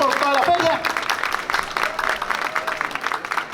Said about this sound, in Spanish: Jonfredi Zuluaga Duque, a quien lo recibimos con un fuertísimo aplauso que se sienta por toda la feria